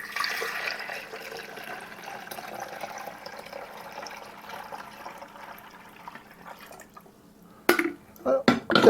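Water pours steadily into the reservoir of a home drip coffee maker from a filled pitcher, a soft continuous trickle that ends near the close with a few louder clunks and splashes.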